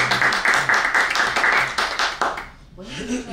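A small group at a meeting applauds for Carolina, rhythmic close clapping with individual hand claps audible, giving way to a voice starting to speak as it stops.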